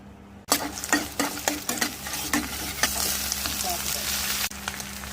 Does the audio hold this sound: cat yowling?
no